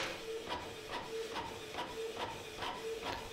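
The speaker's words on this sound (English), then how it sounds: "And the printer will start printing right away." A Canon Pixma TS3420 inkjet printer prints a document with a regular mechanical shuffling, and the print head passes about twice a second, close and moderately quiet with no talk.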